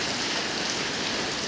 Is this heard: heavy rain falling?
yes